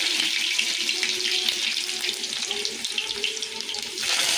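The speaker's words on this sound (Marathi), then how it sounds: "आता याच्यामध्ये आपण जिरं टाकून घेऊ, मोहरी टाकून घेऊ, लसूण" Cumin, mustard seeds, garlic and curry leaves crackle in hot oil for a dhaba-style shev bhaji, a steady close hiss with scattered pops running unbroken and fairly loud throughout.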